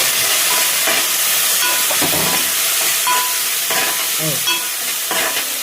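A spoon scrapes and stirs curry with curry leaves, green chillies and coriander in a hot pan, a steady sizzling hiss with repeated scraping strokes throughout, close and loud, with no talking.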